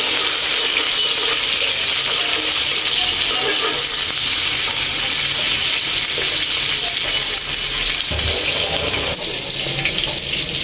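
Vegetable bhaji fries in a pan with a dense, loud, continuous sizzle and hiss that runs unbroken from start to finish, with faint stirring underneath.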